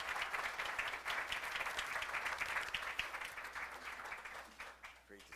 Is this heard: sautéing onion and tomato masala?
no